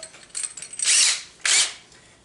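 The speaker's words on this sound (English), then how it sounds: "And I drill one pilot hole" A power drill fitted with a 3/8 bit bores a pilot hole into drywall, giving two short, loud, high whirring bursts close by with a brief pause between them.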